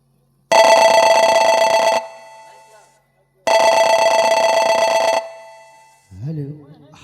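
Telephone ringing in a Hindi nautanki stage play, two long loud electronic bell trills separated by a pause, followed by a brief voice.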